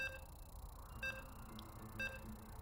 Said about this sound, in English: you can hear the beeps, and we are loading into game number 2